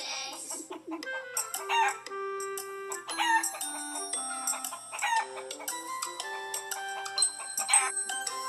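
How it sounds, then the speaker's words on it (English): Chickens cluck and a rooster crows repeatedly in a farmyard, with several overlapping birds calling close by in busy, uneven bursts and no talk. "Chickens give us eggs."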